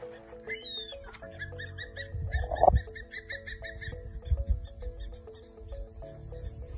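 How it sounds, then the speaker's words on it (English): Distant, repeated high calls from a Wahlberg's eagle echo over a low rumble of outdoor background noise, with other faint animal calls mixed in. "but that was the call of the Warburg's Eagle."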